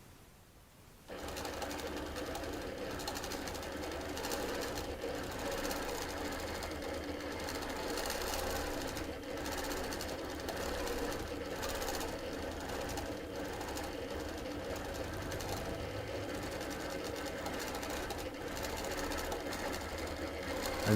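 A sewing machine stitches straight and curved crosshatch quilting along a quilt border, running as a steady, dense mechanical whir with fast rattling after a quiet start and continuing without pause for about twenty seconds, with no talking.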